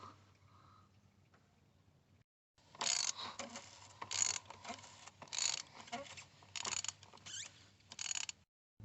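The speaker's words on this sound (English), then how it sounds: "we're going to use a 32mm socket on an extension, and we'll get down here on top of the filter housing" A 32mm socket on an extension turns the oil filter housing cap on a VW Amarok 2.0 TDI, giving a run of close ratcheting clicks and scraping bursts after a quiet start, with a low steady hum underneath.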